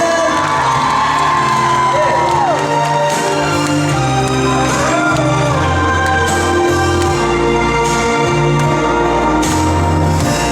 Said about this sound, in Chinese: 热情的掌声加尖叫声